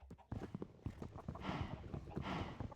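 Horse hooves clip-clop at a steady walking pace in Minecraft, soft and fairly close, with faint background noise.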